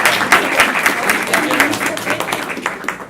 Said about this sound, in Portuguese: eu quero pedir um aplauso para o ministro Aires Brito